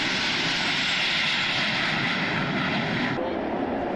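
Military aircraft such as Mirage and Tomcat jets flying at the 1994 Yeovilton D-Day 50th anniversary airshow, a broad steady engine roar that holds loud and constant, easing slightly near the end, with no talk.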